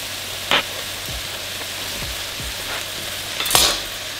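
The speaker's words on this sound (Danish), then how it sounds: "Jeg tilsætter broccoli nu." Broccoli hitting a hot wok bursts into a loud sizzle over a steady frying hiss, with a few soft thuds and scrapes of stirring in between.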